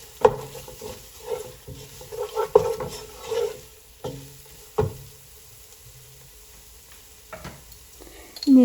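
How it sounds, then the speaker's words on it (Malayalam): A spoon stirs coriander powder and pepper masala in a pan, making scattered scraping knocks and soft sizzling bursts close by, separated by quiet gaps. "ഇനി അതൊന്ന് ഇളക്കി യോജിപ്പിക്കാം."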